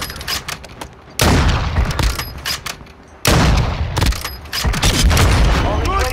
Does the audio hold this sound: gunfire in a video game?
yes